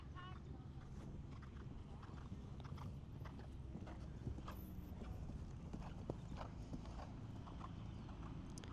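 Horse hooves clip-clop in a steady walking rhythm at a distance, faint and muffled among low background rumble and occasional distant voices.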